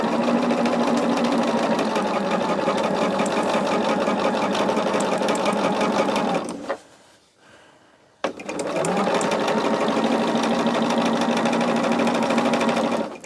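Sewing machine stitches rows on a quilt in a fast, steady whir, pausing briefly in the middle before starting up again at the same pace.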